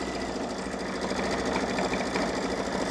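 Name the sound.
Babylock Solaris Vision embroidery machine stitching a Christmas train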